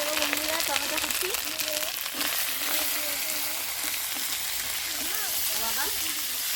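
Chopped tomatoes hit hot oil in a pan with a steady, dense sizzle that runs the whole time, while a voice carries on underneath.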